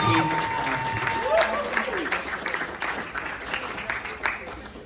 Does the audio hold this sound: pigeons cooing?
no